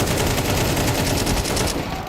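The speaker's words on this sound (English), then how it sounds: "They didn't connect any of those 60 bullets unloaded into the smoke there" A long automatic burst sprayed blindly into smoke in Counter-Strike 2, rapid evenly spaced gunshots rattling loudly for about two seconds before cutting off abruptly.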